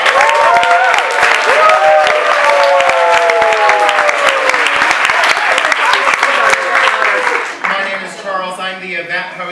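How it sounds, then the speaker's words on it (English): A crowd applauds loudly and steadily with some cheering and voices mixed in, then the clapping thins out near the end. "give yourselves a round of applause"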